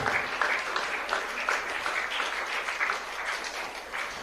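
Crowd applause at an e-library launch ceremony in Benaulim, Goa, steady dense clapping holding for several seconds, loud and close, with a faint voice underneath.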